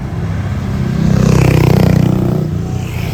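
A motorbike passes close by on a narrow stretch of Manila's Calayan Bridge, engine buzz swelling and fading, over a steady rumble of nearby road traffic.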